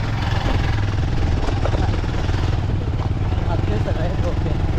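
A motorcycle engine drones steadily and fairly loudly on a ride up the Naneghat ghat road, with continuous road and wind rumble beneath it.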